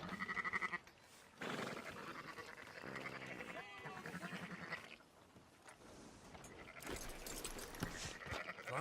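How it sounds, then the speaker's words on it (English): Sheep bleating in the Red Dead Redemption 2 video game, several loud wavering bleats from a small flock nearby, with game voices and ambient sound mixed in between calls. "Fine sheep."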